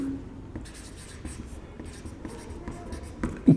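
Pen or marker writing out the ideal gas equation during a chemistry lesson, a soft continuous scratching of strokes heard close, with faint background hum and light voice.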